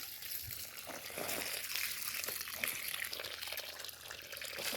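Water splashing and trickling as a garden with tomato plants is watered in the fall, a steady close wash of spray with faint crinkling, no voices.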